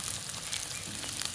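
Sliced onions just dropped into hot oil in a home kitchen, making a steady, close, bright sizzle with small crackles, heard alone at a constant level.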